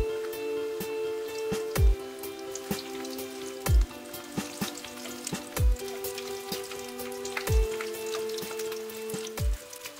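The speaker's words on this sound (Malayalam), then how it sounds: "ഇനി കട്ട്ലറ്റ് പാറ്റീസ് ഫ്രൈ ചെയ്തെടുക്കാം നല്ല ചൂടായ എണ്ണയിലേക്ക് കട്ട്ലറ്റ് പാറ്റീസ് ഇടാം" Chickpea cutlet patties sizzle steadily in hot oil, with a dense crackling spatter and soft periodic thumps, up close and with no talking.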